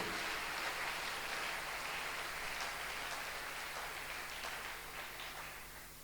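A church congregation applauds at a Sunday service, giving a dense, steady patter of many hands clapping that fades slightly toward the end.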